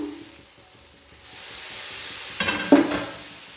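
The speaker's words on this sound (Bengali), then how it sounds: "আবারও তেল দিয়ে দিলাম অল্প করে তেল চারদিকে ছড়িয়ে দেব দু চামচ বেটার দিয়ে দিলাম" Patisapta batter spreading in hot oil in a pan, a soft steady sizzle that swells after a quiet start, with a few scraping touches near the end.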